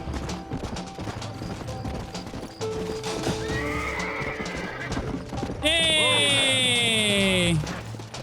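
Horse in Red Dead Redemption whinnies loudly and clearly near the end, a long descending neigh rising over steady game sounds, hoofbeats and background noise.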